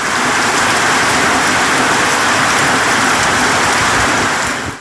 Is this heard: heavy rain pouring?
yes